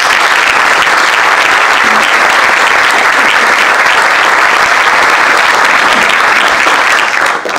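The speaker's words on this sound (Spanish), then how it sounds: "Un aplauso, doctor Álvarez." Loud, dense applause from an audience at a talk, a steady sustained wash of many hands clapping close by, unbroken by speech and easing only slightly at the very end.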